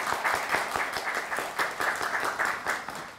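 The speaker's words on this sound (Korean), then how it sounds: "중간에 박수 한번 부탁드리겠습니다." Steady audience applause from a crowd at a social workers' association election candidate debate, many hands clapping densely and evenly for a few seconds without pause.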